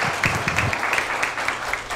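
An audience applauds after an eloquent, moving talk, a steady patter of many hands clapping at moderate distance throughout the brief moment, with no talk over it.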